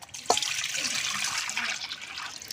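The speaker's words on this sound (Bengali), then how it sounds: "আবারও জল দিয়ে দেব।" Water poured over food to wash it: a short splash and gush of running water into a vessel, close and fairly loud, beginning with a brief hit and trailing off within a couple of seconds.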